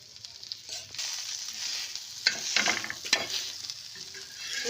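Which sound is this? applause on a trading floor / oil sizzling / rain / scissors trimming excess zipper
oil sizzling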